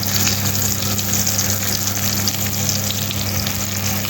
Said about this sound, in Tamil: ஆயில் விட்டு நல்லா வதக்கணும்